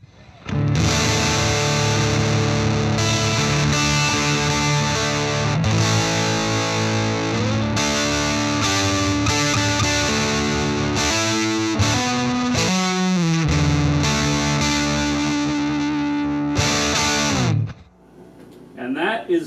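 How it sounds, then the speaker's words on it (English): Stratocaster electric guitar through a Pelican Noise Works Half Horse fuzz pedal into a Princeton Reverb amp, with all knobs at 12 o'clock, plays thick, saturated chords and riffs for a long stretch, buzzy and loud, with a sliding bend near the middle before cutting out. "Goes anywhere from a spitty, gated type of fuzz to very full-sounding fuzz."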